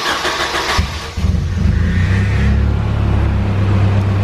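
A Nissan 240SX engine cranks and catches, the starter's rough churning giving way after about a second to a steady, loud idle with a faint high whine.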